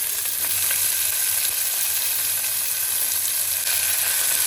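Onion and tomato frying in a pan give a steady, bright sizzle with a constant hiss, close and fairly loud, with faint stirring underneath and no talk.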